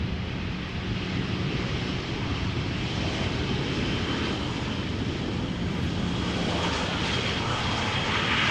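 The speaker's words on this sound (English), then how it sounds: "EasyJet arriving from Brussels." An EasyJet airliner arriving at Amsterdam Schiphol Airport in gusty crosswinds, its engines giving a steady, broad roar that holds level and fairly close throughout, with no voices.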